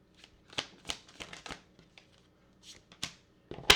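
A tarot card deck being shuffled and cut by hand, a quiet close run of crisp riffling flicks and taps in irregular bursts, ending on a louder snap.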